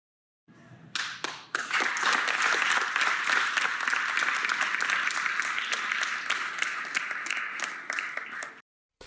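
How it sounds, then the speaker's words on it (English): An audience at a speech by Kyle Rittenhouse at WKU breaks into loud, sustained clapping that starts with a few scattered claps, swells into a dense wash and then stops abruptly. "people are clapping"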